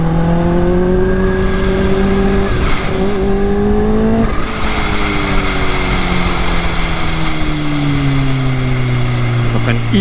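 A Kawasaki H2 motorcycle of 280 hp roars under acceleration, its engine note climbing and dropping through gear changes, loud and continuous with a rider's voice faintly under it.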